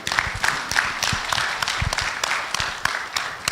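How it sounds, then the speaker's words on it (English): A conference audience at a national postgraduate students' gathering claps steadily for a university group, with a dense, continuous patter of many hands in a large hall and scattered louder individual claps. "Clap for them."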